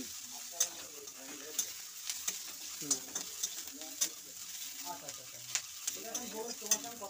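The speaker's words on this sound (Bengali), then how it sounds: "চলো ভালো করে এটাকে ভেজে নিই।" Tilapia fish chutney fries in a pan, a steady sizzle under repeated sharp scrapes and clinks of a spatula stirring, close and fairly quiet, with no talk.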